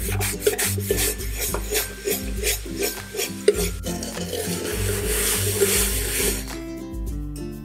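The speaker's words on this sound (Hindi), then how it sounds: "तो ये देखिए काफ़ी हद तक हमने इसे रगड़ के साफ़ कर लिया है।" A kitchen utensil is scrubbed with a kitchen scrubber in a run of steady rasping strokes, close and fairly loud, with some clinks of the pan and no talking.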